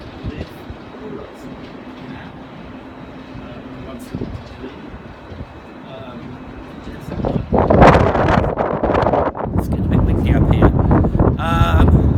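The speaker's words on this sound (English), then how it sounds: "It's getting a bit blowy" Gusty wind buffeting the microphone outdoors in Las Vegas in the morning, low roar building and growing louder in the second half, with some distant city rumble underneath.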